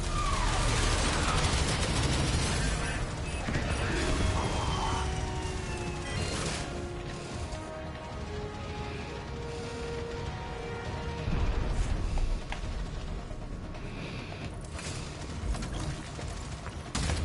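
A big gun loading and firing torpedoes in the Warframe video game, with mechanical clanks and ratcheting, a run of sharp shots and whooshing launches, and humming tones over a steady loud background.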